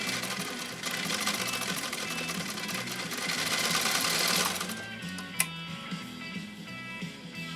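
A 1923 Singer 66-1 sewing machine fitted with an aftermarket motor runs steadily with a dense, fast mechanical chatter, speeding up briefly before easing off, followed by a single sharp knock and a quieter continued hum.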